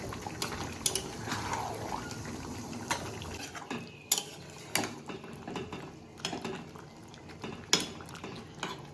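Soybean curry being stirred and pressed in a pan, with irregular scraping and clinking of a spatula against metal, moderately close and alone without talk.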